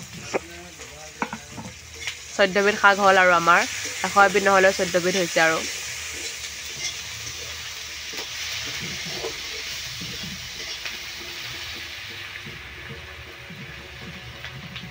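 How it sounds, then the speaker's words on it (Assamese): Finely chopped greens of fourteen leafy kinds fry in a pan, giving a steady sizzle and stirring scrapes. Voices talk over it early on, and the sizzle carries on alone afterward. "শাকখিনি এতিয়া দি পেলাই ধুনীয়াকৈ ভাজি ল'ব"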